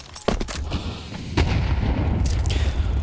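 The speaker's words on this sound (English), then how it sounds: "Nade blown open on the ramp." A grenade bursts during a Counter-Strike match, a sharp booming blast followed by a rolling tail of lingering noise, with several quick gunshot-like cracks just before.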